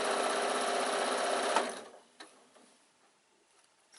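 A sewing machine stitches a fabric baby bag, running loud and steady for about a second and a half before stopping, followed by a few faint clicks and handling sounds.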